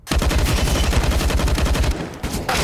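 Rapid automatic gunfire in a Counter-Strike esports match at IEM Katowice 2019: loud, close, evenly spaced shots in a continuous burst of about two seconds, a brief pause, then firing picks up again.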